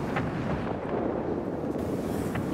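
Dense, continuous rumbling gunfire in World of Warplanes, with rapid bursts from a Seahawk's aircraft cannons, loud and sustained throughout with no voices.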